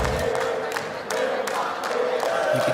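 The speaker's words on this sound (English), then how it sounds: "You can hear the crowd starting to make some noise" Esports tournament crowd at a PUBG Mobile World Cup survival stage, a steady roar of many voices with repeated bursts of cheering under loud arena noise.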